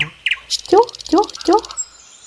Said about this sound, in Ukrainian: Соловейко співав у гілках дерева.